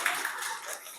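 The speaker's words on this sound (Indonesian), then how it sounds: "tepuk tangan untuk evaluasi kita hari ini" A classroom of school students claps together after an evaluation session, a brief, dense, moderately loud patter of many hands with no talk.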